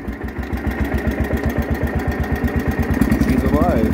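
A Wheel Horse 312-8 lawn tractor engine runs close up with a steady, rhythmic putt-putt idle, growing slightly rougher and louder near the end.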